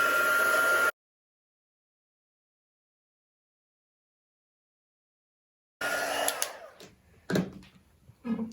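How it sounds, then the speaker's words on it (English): A heat embossing tool blows on a Halloween card: a steady, fairly loud whoosh of hot air for about a second, then silence, then the airflow returns with a few light clicks and knocks. "I'm going to go ahead and emboss this."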